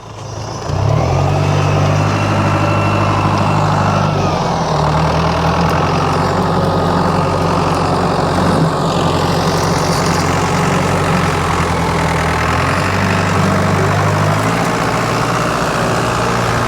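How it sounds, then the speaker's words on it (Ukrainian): A loud 83 hp tractor engine hauls a plough across a Swiss farm field, working steadily under heavy load for the whole stretch with a deep, constant drone and brief rises in engine pitch. "Для цього плуга треба від 100 кінських сил, а цього 83 кінських сили. Але тягне, бачите як."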